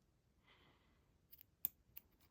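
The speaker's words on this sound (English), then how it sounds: "Then I'm going to take these scissors. I'm going to leave about 1/4 of an inch there." Scissors snip through elastic beading cord for a bracelet, a few sharp quiet clicks and one crisp cut near the middle, close and alone with no talk.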